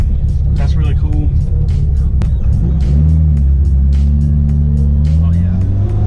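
A turbocharged 2003 Mitsubishi Evo 8 making 500 wheel horsepower accelerates hard, its loud engine rumble rising and falling through gears with turbo whooshes and flutters, while people talk over the noise.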